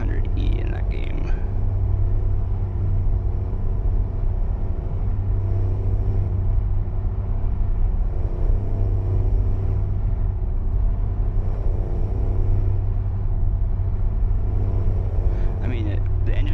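Heavy truck engine in a driving simulator game, a steady low rumble droning continuously while the truck cruises along, with a few faint higher-pitched noises near the start and end.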